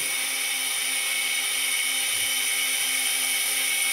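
A drone with a faulty front motor whirs in a loud, steady, high-pitched drone, close up, continuous for the whole stretch with a slight waver and no talk.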